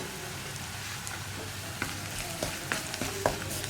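Spice powders, including garam masala and salt, fry in a pan for an egg and okra thoran, a low steady sizzle with a few light stirring taps near the end and no voices.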